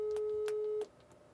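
Steady telephone tone on an outgoing phone call, a single held pitch with brief clicks, cutting off after under a second into quiet line hiss.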